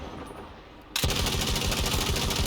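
Rapid automatic gunfire in Battlefield V bursts in suddenly after a quiet moment and continues as a loud, dense, steady stream of shots.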